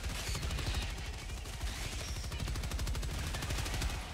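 A machine gun fires in Helldivers 2 as one continuous rapid stream of shots, steady and sustained, with dense low booms under a constant rattle and no pauses.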